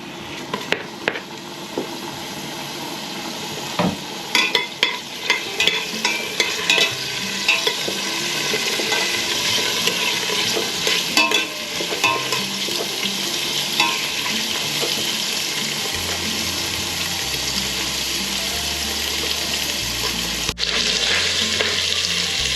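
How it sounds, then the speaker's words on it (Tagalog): Onion and ginger sauté in a pan for sinigang, a steady close sizzle with scattered stirring scrapes and clicks that becomes louder and denser as cooking continues, with no talking. "Unahin natin itong sibuyas at luya."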